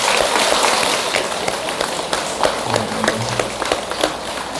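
Audience applause at a Buddhist temple dharma service, a dense wash of many hands clapping together, moderately loud and fairly close, steady at first and then thinning into scattered claps toward the end.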